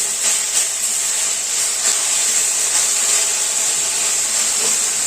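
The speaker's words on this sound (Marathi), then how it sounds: "आपल्याला झाकण न ठेवता तशी छान परतून घ्यायची आहे" Fenugreek leaves sautéing in an open pan without a lid give off a steady, even hiss and soft sizzle that runs unbroken and fairly close throughout.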